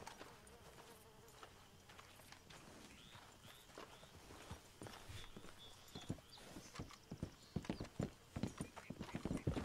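Horse hooves clip-clop in Red Dead Redemption 2, starting sparse and building into louder, closer, irregular strikes toward the end, with a faint buzzing of insects and ambient outdoor sound underneath; no one speaks.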